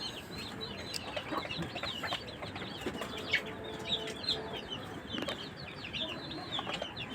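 Several chickens cluck and chirp softly close by at night on a farm as they roost, a continuous low chatter of farm birds with occasional sharper calls.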